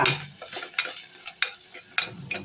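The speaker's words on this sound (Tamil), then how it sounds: "அப்படியே பச்சை வாசனை போகிற அளவுக்கு வதக்குங்க" Chili powder masala fries in a pan for egg gravy: a brief burst of sizzling with several quick scraping stirs of a spoon, close up and without speech.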